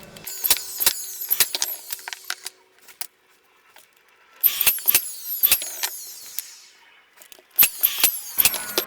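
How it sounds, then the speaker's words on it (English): A brad nailer drives brads into sanded wood pieces of a bathroom organizer, firing sharp, close snapping shots in quick clustered bursts separated by brief pauses. "we are just going to brad nail all this in"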